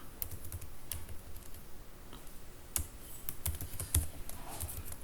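Code is being typed on a computer keyboard in quick, uneven bursts of close, crisp key clicks over a quiet background.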